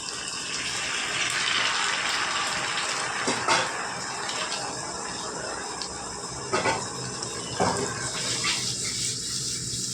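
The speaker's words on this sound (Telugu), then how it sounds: "ఇప్పుడు పులుసు వేసుకుందామండి." Tamarind sauce for an Andhra-style fish curry with raw tamarind is poured into a pan of frying fish, making a continuous close liquid gush and sizzle with a few louder splashes and clinks, with no speech.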